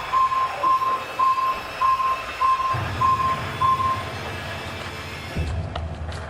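A device beeps repeatedly in a French paranormal investigation, short high electronic tones in a regular on-off pattern lasting about four seconds, clear over a low hum, followed by rustling and handling noise.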